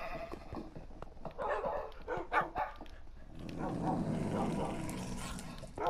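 Minecraft dogs bark in scattered bursts during a fight against iron golems, then the yapping gives way to a denser, rougher wash of mixed game noise in the second half.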